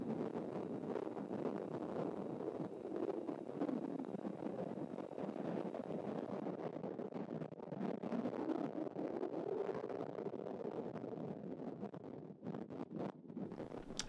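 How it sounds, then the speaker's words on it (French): Strong wind on a beach in Brittany buffets the microphone in a continuous, roaring rush, with gusts rising and falling throughout and no voices. "Il y a énormément de vent, vous avez vu."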